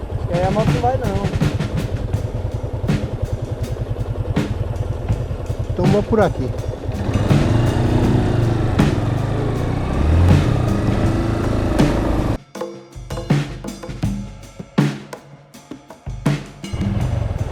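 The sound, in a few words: motorcycle riding on a trail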